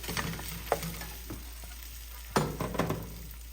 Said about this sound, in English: before it gets burnt, add the potatoes. And we'll mix it well.